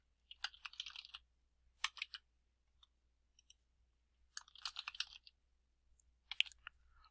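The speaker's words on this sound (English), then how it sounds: "Sample names can be typed in one at a time" Computer keyboard typing in quick bursts of soft clicking keystrokes, with short pauses between clusters, close and quiet in an otherwise silent room.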